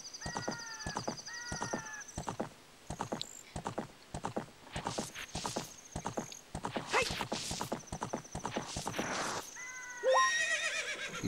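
Epona the horse gallops in The Legend of Zelda: Ocarina of Time, with a fast steady clip-clop of hooves and repeated synthesized whinnies over game sound effects, loud and continuous, with no talking.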